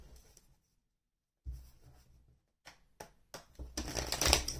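Tarot cards are shuffled by hand in short, quiet riffling bursts separated by pauses, ending in a louder, denser flurry of shuffling.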